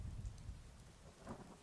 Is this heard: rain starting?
yes